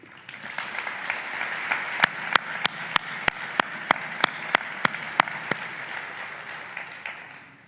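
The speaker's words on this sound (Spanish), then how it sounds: "Por eso pido un aplauso para ellos" Sustained applause from an audience at a church brotherhood's proclamation event honouring San Eufrasio, dense and steady throughout, punctuated by a series of sharp, evenly spaced clicks or knocks in the middle.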